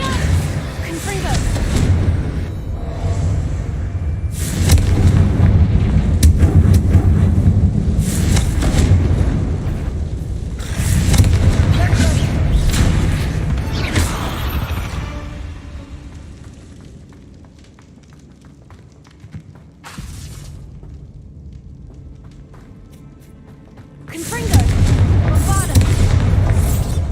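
Confringo blasting spells in Hogwarts Legacy erupt in heavy, booming explosions one after another, loud and rumbling, with quieter lulls between bursts and a final big blast near the end.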